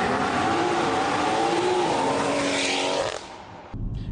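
A tuned BMW X3 M40i SUV at MHD Stage 2+ with about 480 wheel horsepower accelerates hard, its engine note loud and close with a steadily rising, rough roar that cuts off abruptly near the end.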